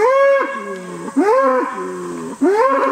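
Family milk cow and bull low in three long, loud, close moos with rising and falling tones, separated by brief pauses.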